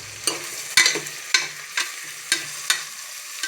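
Onions for chicken biryani stirred in a hot pan, a spatula scraping in about seven distinct strokes over a steady soft sizzle, close up with no talking.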